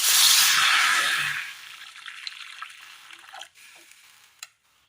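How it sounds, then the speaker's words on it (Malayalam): Water hits a hot pan on the stove, a loud rushing hiss and sizzle at first that quickly fades into softer crackles and scattered small pops. "അടുപ്പത്ത് ഒരു ചട്ടി വെച്ച് കൊടുത്ത് അതിലേക്ക് അല്പം വെള്ളം ഒഴിച്ചു കൊടുക്കാം."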